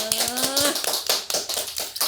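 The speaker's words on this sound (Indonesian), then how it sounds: "Tepuk tangan semuanya." A few people on an Indonesian talk show set in Kotabaru clap in quick, uneven bursts, close and crisp, with a voice heard briefly at the start.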